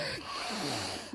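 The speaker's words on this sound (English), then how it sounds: "This just seemed to make her cough." A wet, productive cough sound effect from the horror game Corpse Party: Book of Shadows: a short, breathy, snorting burst with a gasping wheeze, close and fairly quiet.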